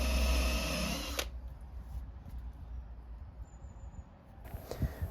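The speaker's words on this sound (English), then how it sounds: "I could then drill the bench top for attaching the legs" A power drill bores into a wooden railway-sleeper bench top, its loud motor whine running for about a second before cutting off, leaving only quiet room noise and a faint knock near the end.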